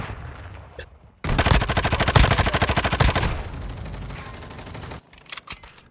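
Rapid SMG gunfire in Modern Warfare 2, a loud, sustained burst of closely spaced shots lasting several seconds, then a few scattered sharp sounds afterward.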